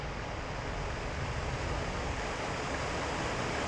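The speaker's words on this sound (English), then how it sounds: "if I bump up the voltage, you can hear the motor start to go faster and faster" A truck's blower motor running on a variable voltage supply, a loud steady broadband whoosh of moving air, without talk.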